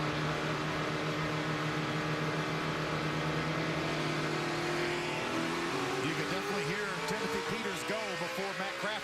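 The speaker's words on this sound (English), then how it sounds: "you could also hear Matt Crafton keep his speed steady" A NASCAR Camping World Truck Series truck at Kansas holds a steady engine drone on a restart, its hum shifting into rising and falling pitch sweeps from passing trucks, with a commentator talking over it.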